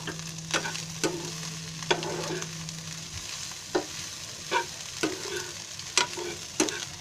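Egg bhurji frying in a pan under steady stirring, a low continuous sizzle marked by sharp scrapes and taps of the spoon about once a second.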